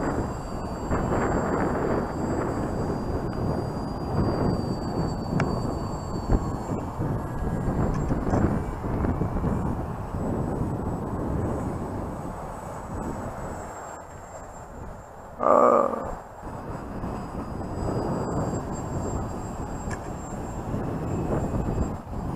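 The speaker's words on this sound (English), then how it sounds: "A little bumpy out here with this wind today" Gusty wind of around ten miles an hour roars and buffets steadily outdoors during an RC plane flight, with a faint thin motor whine running above it and a brief sharp burst near the end.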